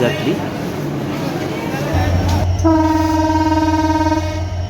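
Chitra Express, bound for Khulna, pulling out of platform four at Ishwardi Railway Junction at night, a loud deep engine rumble joined by a sustained blaring horn, close by.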